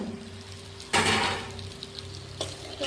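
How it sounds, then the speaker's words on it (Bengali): Chicken being stir-fried kosha style in a pan, steady sizzling broken by a loud scrape and clatter of a spatula against the pan, then a second sharper scrape near the end, no talking. "তো এটাকে আমি এখন ভালো করে একটু দেখো কষিয়ে নিচ্ছি।"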